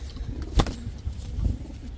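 A single soft coo from high-flyer Giribaz pigeons stands out briefly amid low background rumble, close by, with faint murmurs of other birds around it.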